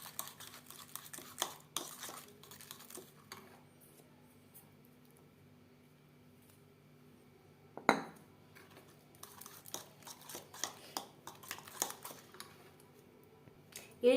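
Flour is stirred into cake batter in a bowl, with soft, irregular scraping and tapping of a spoon against the dish, quiet and close, pausing midway before resuming with sharper clinks; no voices.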